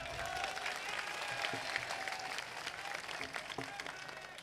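An audience at a mushaira poetry gathering in Saharanpur breaks into sustained applause, a steady wash of clapping from a large crowd with a few louder claps and murmurs throughout.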